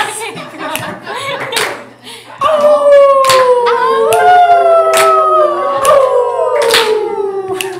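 Several people imitate wolf howls in a group song circle, long rising and falling voiced howls overlapping one another, with scattered hand claps and chatter beneath, fairly close and loud.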